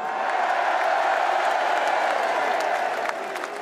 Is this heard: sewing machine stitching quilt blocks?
no